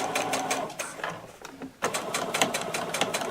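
A sewing machine stitches a zipper for a cosplay costume, running in close, rapid mechanical bursts with a short pause midway before stitching resumes.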